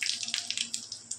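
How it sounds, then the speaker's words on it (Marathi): A bay leaf and whole spices sizzle in hot oil for mutton kheema, giving a soft, quiet hiss with quick crackling pops. No one speaks. "तेल तापलंय, त्यात तेजपान घालते आणि खडे मसाले घेतले होते ते घालते"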